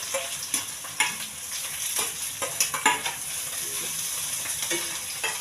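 Green chili, ginger, curry leaves and onion frying in hot oil in a pan, a steady bright sizzle with repeated sharp stirring scrapes and clatters throughout, close and without voices.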